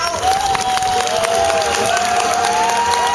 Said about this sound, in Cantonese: 我哋而家俾掌聲歡迎幾位4日3夜苦行嘅朋友